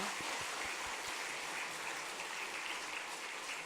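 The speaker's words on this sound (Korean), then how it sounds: "하나님께 영광의 박수를 드립니다." A church congregation applauds during an ordination service, giving a steady, dense wash of clapping that stays fairly faint and even throughout, with no voices over it.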